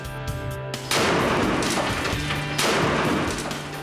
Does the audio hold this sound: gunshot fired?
yes